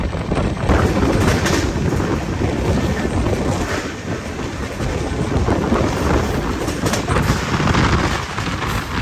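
Udhampur Superfast Express train running at about 130 km/h over back-to-back railway crossings, a loud steady roar with rapid wheel clatter throughout, heard from on board.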